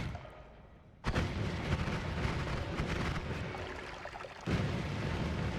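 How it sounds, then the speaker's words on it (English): Exploding ducks in the video game Noita burst in two loud, crackling blasts, each followed by a sustained rumbling roar, the second starting a few seconds after the first. "So the initial burst of ducks here, I thought they would have a larger explosion."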